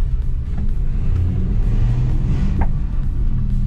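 A small red car rolls slowly at an auction, giving a low, close engine rumble with a gentle whir that stays even throughout.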